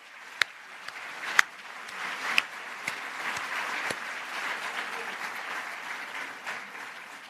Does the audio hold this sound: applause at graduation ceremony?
yes